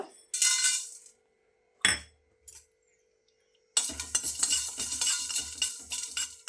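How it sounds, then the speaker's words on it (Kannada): Black peppercorns dry-frying in a heated pan for mango pickle spice mix, heard as short bursts of rattling and scraping, then a longer stretch of steady stirring clatter and clinks against the metal pan, close with gaps of quiet. "ಇಲ್ಲಿ ಒಂದು ಬಾಣಲಿ ಬಿಸಿ ಇಟ್ಟಿದ್ದು ಇದಕ್ಕೆ ಮೊದಲಿಗೆ ಕಾಳುಮೆಣಸು"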